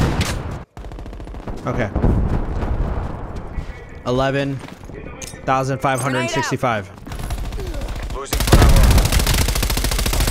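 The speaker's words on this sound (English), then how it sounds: "can someone get rid of this turret, please? This thing's a problem." An enemy turret in Call of Duty: Black Ops Cold War multiplayer fires steady, rapid bursts, loud and close, with a short break partway through. A player speaks briefly over the gunfire.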